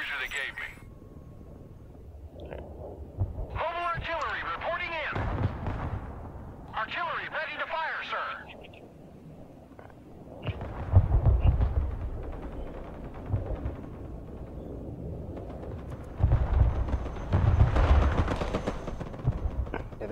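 Heavy artillery fire in the Broken Arrow battlefield game: deep booming blasts, clustered near the middle and the end, rumble beneath steady radio chatter and a player talking.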